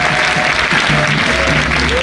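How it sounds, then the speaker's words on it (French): Audience applauding the First Lady at an official launch event in Côte d'Ivoire: dense, steady clapping from a large crowd, loud and close, continuing without pause under faint murmurs. "Je vous demande d'applaudir Madame la Première Dame,"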